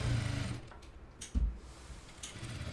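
A sewing machine stitches a lined suit, whirring loudly and close at first, then dropping to quieter stitching with a few short mechanical bursts, and no voices.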